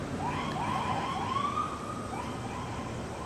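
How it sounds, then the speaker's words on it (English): A distant emergency siren wails faintly in the background with rising and falling sweeps, steady under broad outdoor noise, heard from outside an old Buick-style car at a home. "You hear that siren in the background?"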